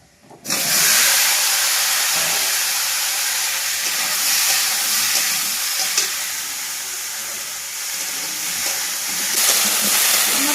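Banana, potato and bitter gourd frying in oil spiced with cumin, onion and garlic: an instant loud, close hiss as the pieces hit the pan, settling into continuous steady sizzling with occasional stirring scrapes.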